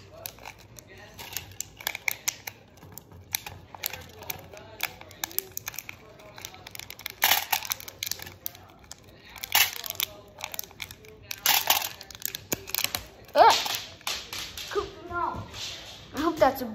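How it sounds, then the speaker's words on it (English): Repeated crisp snipping and crunching of scissors cutting through material, in irregular bursts close up, with a person talking intermittently. "the last time I'm using these scissors"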